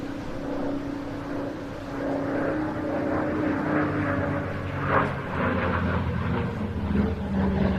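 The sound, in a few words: aircraft with Pratt & Whitney radial engine diving past at air display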